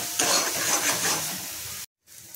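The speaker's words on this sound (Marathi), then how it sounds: "व्यवस्थित परतून घ्यायचे।" Turmeric and goda masala sizzle and hiss as they are sautéed in a pan, with a steady crackling fry and stirring scrapes that cut off abruptly near the end.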